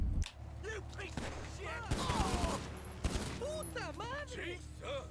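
Gunfire in GTA V, several shots cracking out amid busy game noise and engine drone, with a person talking over the action.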